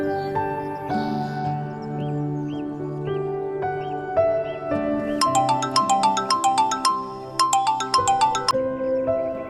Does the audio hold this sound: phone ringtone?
yes